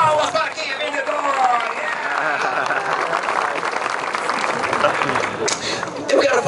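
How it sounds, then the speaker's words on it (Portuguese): Applause from an audience at a sales talk in Caxias, a steady, dense clapping with crowd murmur that carries through without a break, swelling slightly near the end. "palmas para quem é vendedor!"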